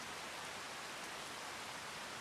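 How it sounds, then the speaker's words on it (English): Rain falling steadily in a farming game, an even, dense hiss of rainfall with no talk, holding the same level throughout. "And it's raining!"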